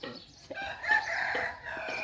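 A rooster crows once at moderate distance, a drawn-out rising and falling call against quiet background noise.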